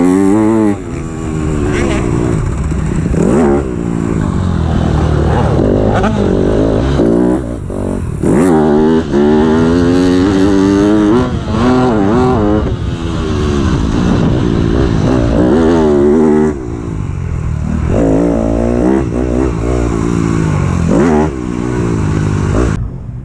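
A 2017 Yamaha YZ250F dirt bike is ridden around a motocross track, its engine loud and close, revving hard and dropping back repeatedly as it works through the laps and jumps.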